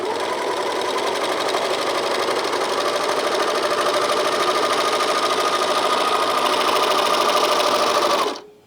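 A Janome 644D serger/overlocker stitches and trims a sleeve seam, a steady fast mechanical whir with rapid rhythmic needle chatter running continuously for about eight seconds, then stopping abruptly at the end.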